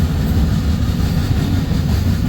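Freight train rolling past close by with rear DPU locomotives, a steady loud rumble of wheels and rail noise without pause, no voices.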